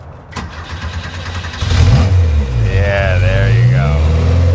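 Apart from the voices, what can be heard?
four-cylinder car engine revving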